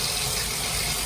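Water runs steadily from a Moen shower valve, a dense, even, close rush of flowing water with no other sound on top.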